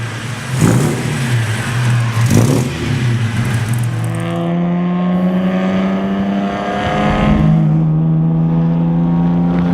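An old Lancia with a V6 engine pulls away and accelerates, the engine note rising steadily in pitch after a couple of loud revs and clunks at the start, heard close up with no talking.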